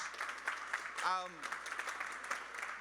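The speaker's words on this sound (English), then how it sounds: "So without further ado, please give Robbi a big round of applause" An audience at an esports conference applauds with a steady patter of moderate clapping. A voice cuts in briefly partway through.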